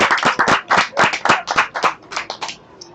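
A room full of people applauds, a dense patter of many hands clapping close by that swells and then thins out toward the end.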